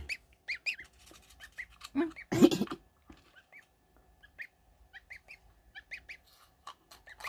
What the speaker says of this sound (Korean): 거위입니다, 거위.